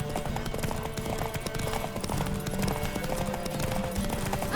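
Horse hooves clip-clop in The Witcher 3 game, a steady busy trotting beat under a dense layer of game ambience and music, fairly close.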